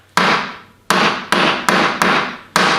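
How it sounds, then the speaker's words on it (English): A hammer strikes a small piece of lead six times at uneven intervals, each blow a sharp close metallic thud that decays quickly, in a muzzleloading rifle workshop with no talk. "What I'm doing now is I'm flattening out a piece of lead."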